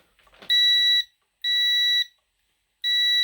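A Power Probe 4 in continuity-check mode sounds three loud, steady electronic beeps, each lasting about half a second with brief silent gaps between them and a faint clatter just before the first.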